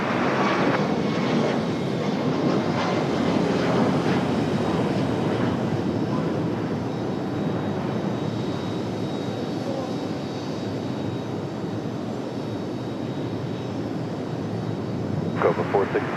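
At Raleigh-Durham airport, a jet roars steadily on its takeoff run from runway 23 right, loud and continuous throughout with a broad rushing engine tone, while radio voices come and go over it.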